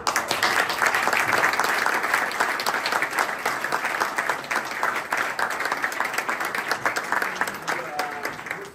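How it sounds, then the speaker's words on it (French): A crowd claps at a golf event at Golf des Vigiers in France, the applause loud, thick and continuous, holding steady for close to nine seconds before easing slightly at the end. "Je crois qu'on peut les applaudir très fort."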